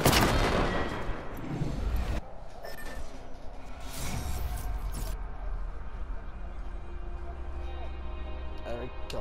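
Video game gunfire, with a burst of shots and scattered cracks near and far, heard under a player's talking.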